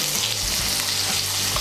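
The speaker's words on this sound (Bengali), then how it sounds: "নুন আর হলুদটা মিশিয়ে নিয়ে আলুগুলোকেও ভালো করে ভেজে নেব।" Potatoes fry with salt and turmeric in mustard oil, making a dense, steady sizzle with faint stirring scrapes underneath, close and continuous throughout.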